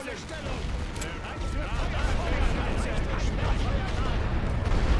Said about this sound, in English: So I'm going to try to hit that with artillery.